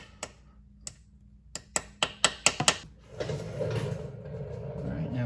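Sharp metallic hammer taps on a dowel pin going into a Mustang engine block during clutch replacement, about eight taps quickening toward the end, then someone talking.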